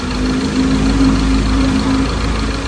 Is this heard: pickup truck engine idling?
yes